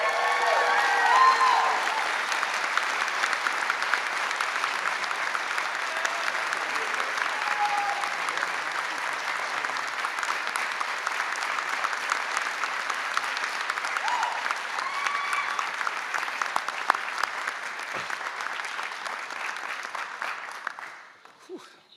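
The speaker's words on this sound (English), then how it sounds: "Please join me in congratulating the class of 2022 Dean's Award recipient, again, Katia Avenes" An audience at a Pacific University College of Optometry class of 2022 ceremony applauds a Dean's Award recipient: sustained, even clapping for about twenty seconds that fades out at the end.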